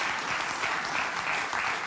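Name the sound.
audience applause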